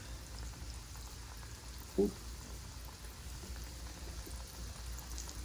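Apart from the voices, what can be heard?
squash and zucchini frying in hot oil on a stove top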